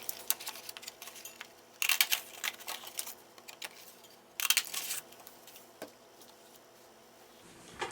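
Scissors cut paper pieces for a handmade junk journal, with two louder bursts of crisp snipping among scattered quieter clicks and rustles, close by and with no voices.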